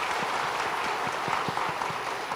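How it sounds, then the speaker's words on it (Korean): Church congregation clapping during Sunday worship to welcome newly registered members, a steady, moderately loud patter of many hands in a large hall, sustained throughout without talk. "우리 한 박수로 환영하도록 하겠습니다"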